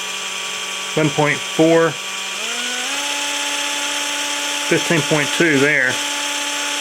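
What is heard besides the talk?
electric drill spinning a Datsun distributor for testing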